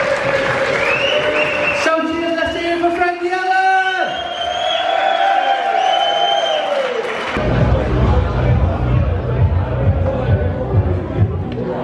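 Crowd cheering and applauding comedian Frankie Allen at a live comedy gig. A bright tonal passage gives way midway to a broad, close roar of clapping and cheers that continues steadily to the end.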